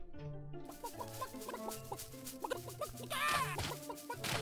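A flock of chickens in the video game Stream Animals clucks in busy, overlapping bursts with a brief louder squawk near the end, set against a steady game music bed.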